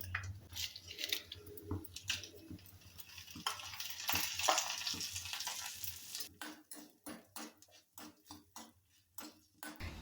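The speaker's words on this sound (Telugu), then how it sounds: "నూనె కాగిన తర్వాత మినప్పప్పు వేసుకుని అది కొద్దిగా వేగిన తర్వాత ఎండుమిరపకాయలు వేసుకుందాం" Urad dal and dried red chillies crackle and sizzle in hot oil, with soft stirring scrapes and a run of quick rhythmic taps toward the end.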